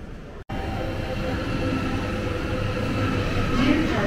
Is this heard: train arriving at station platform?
yes